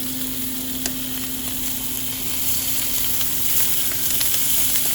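Longaniza sausage sizzling and frying in a pan alongside cooked bistec beef for street tacos, a steady close crackling hiss with occasional sharper pops throughout, no talking.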